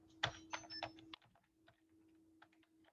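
Password being typed on a computer keyboard, a quick burst of several clicky keystrokes up front followed by sparser, fainter taps over a steady low hum.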